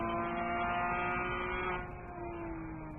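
Onboard sound from a race car at Road America during a WRL endurance race, a loud, steady engine drone with strong harmonic tones, dipping briefly in pitch partway through as the revs shift, with no talk.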